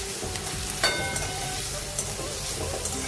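Chopped onion fries in oil in a pan on a gas stove, giving a steady close crackling sizzle with occasional sharper pops and stirring scrapes throughout.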